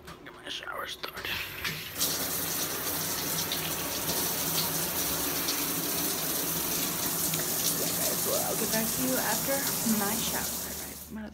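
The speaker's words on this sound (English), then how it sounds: "let me go get the shower start." Shower water starting up and running in a steady, full rush for several seconds after some quiet handling sounds, then easing off near the end; faint voices can be heard under it.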